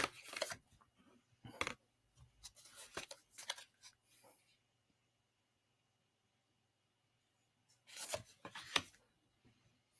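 Cards shuffled during a live card reading, with several short papery bursts of riffling and rubbing near the start, then a pause and another flurry near the end.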